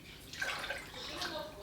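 One cup of water poured into a pot with a cup of white sugar for mint simple syrup, a brief steady pouring rush at close range with no talk.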